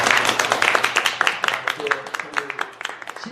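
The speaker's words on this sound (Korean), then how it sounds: "우리 박수로 한번 환영해 주시고" Applause in a church as the congregation welcomes a guest, a burst of clapping that starts loud and dense and thins into scattered claps as it fades.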